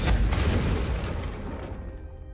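A Confringo spell blast in a Harry Potter video game, a single loud booming burst at the start that rolls out and slowly fades into a soft rumbling tail.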